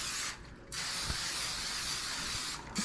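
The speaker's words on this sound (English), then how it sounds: "I'm going to go ahead and spray the pans." Cooking spray hisses onto baking pans in a home kitchen, two short bursts of airy spray separated by brief pauses, close and fairly quiet, with no talking.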